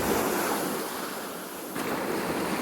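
Ocean waves on the beach at Seaside Park, New Jersey, with a small 1 to 2 foot swell, a steady broadband wash of surf and wind roar, close and continuous with a slight swell near the end, no talk.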